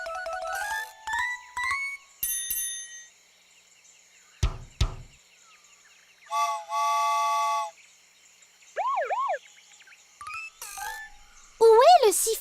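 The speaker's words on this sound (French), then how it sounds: "Écoutons pour voir si nous entendons le sifflet." Bright whistle tones sound in short bursts, including rising and falling chirps near the end, mixed with other Dora the Explorer cartoon sound effects and spoken voices.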